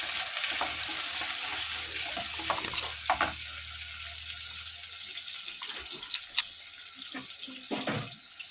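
Chopped onion and green chillies hit hot oil with mustard seeds and cumin for a cauliflower palya. A steady hiss of sizzling runs throughout, with a low hum early on and scattered light clatters.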